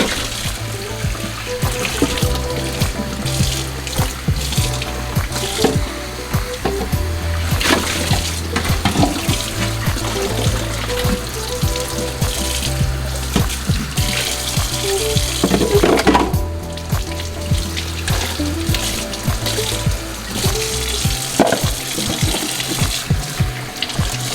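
Warm tap water runs steadily into a kitchen sink as centrifugal juicer parts are rinsed under it, a continuous near splashing and hiss with clatter of parts, lasting throughout.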